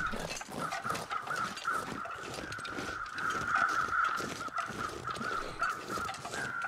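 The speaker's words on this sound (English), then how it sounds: "except for all the crows squawking at us" Crows caw repeatedly in the snowy wilderness of The Long Dark, a near, steady run of harsh calls overlapping throughout with no talk.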